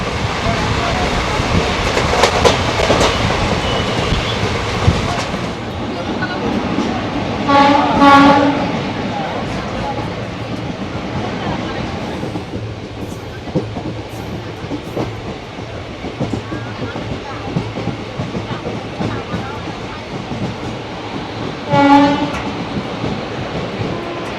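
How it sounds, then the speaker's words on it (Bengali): The Hazarduari Express runs toward Lalgola with a continuous heavy rumble and rattle of wagons, loud and close, while its horn sounds twice in short blasts. Voices are heard faintly under the noise. "এই হচ্ছে দেখো হাজারদুয়ারি এক্সপ্রেস টুয়ার্ডস লালগোলার দিকে চলে যাচ্ছে"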